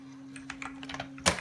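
Quick light key taps on a thermal typewriter patter unevenly at close range, followed by a sharper clack at the end, with no voices.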